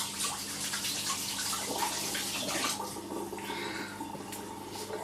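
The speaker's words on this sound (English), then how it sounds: "I'm just going to wash my hands because I think there's still some soap on there" Hands being rinsed under a running tap to clear leftover soap, a steady broadband rush of water that holds for about three seconds, then eases into softer splashing and trickling.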